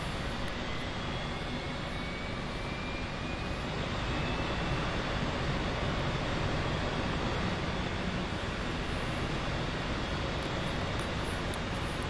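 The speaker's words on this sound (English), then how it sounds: "Green light, so let's crank the right engine." An F/A-18C jet engine spins up in the DCS World flight simulator, a dense, steady roar with a faint rising whine that holds for about twelve seconds, loud and without talk.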